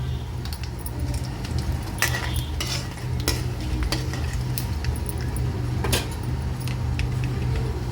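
Turmeric and curry leaves fry in oil in a pan for a green chilli and coriander eggplant fry, a soft steady sizzle under sharp scattered clinks and scrapes of a spoon stirring against the pan.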